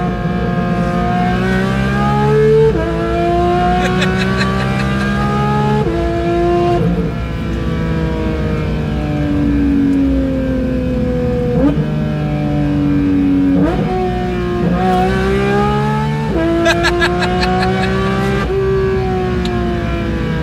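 A Porsche 911 GT3 engine revs hard through repeated rising gear pulls, each climb in pitch ending in a shift and a brief dip, loud and close throughout as the car accelerates.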